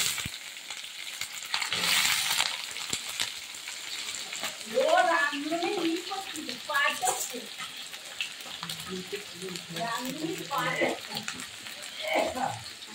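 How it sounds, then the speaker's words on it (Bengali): Sliced onions hit hot mustard oil in a wok and sizzle steadily and loudly, with stirring clatter, while someone talks over the frying. "তেলটা এবার কাটা পেঁয়াজগুলো তেলে ছেড়ে দেবো।"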